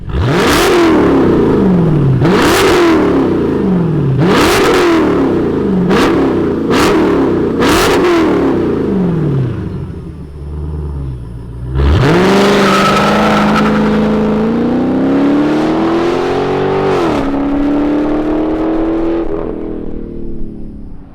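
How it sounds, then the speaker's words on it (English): A 2023 Dodge Charger Scat Pack engine cranks and roars to life, then revs repeatedly in loud rising bursts, drops to a rumbling idle and revs again, up close. "Let's fire up the Scat Pack."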